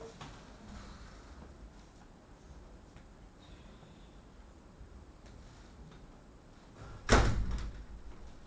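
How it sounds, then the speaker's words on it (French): A door shut with a single sharp slam near the end, loud and close, after a quiet stretch of faint room noise. "Fermez la porte, Garbi, je vous en prie."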